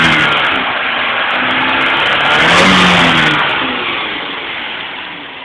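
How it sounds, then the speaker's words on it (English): A car engine revs loudly up and back down, a single sustained roar swelling at its peak before settling toward idle, heard close up. "I'll leave you guys with a little bit of an engine rev"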